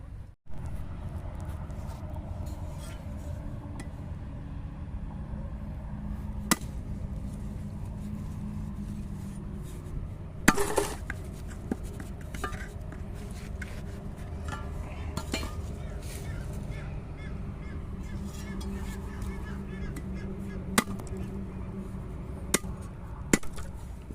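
Sugarcane stalks are cut in a field to prepare a nursery, giving sparse, sharp chopping strikes at irregular intervals. The strikes sit over a steady outdoor background hum.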